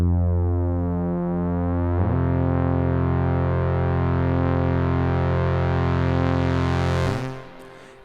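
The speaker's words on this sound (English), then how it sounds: "Moog synthesizers are famous for their filters." A Moog Subsequent 25 synthesizer holds a bright, buzzy sustained tone as its filter gradually opens, with a chord shift partway through and a loud, close sound that cuts off near the end.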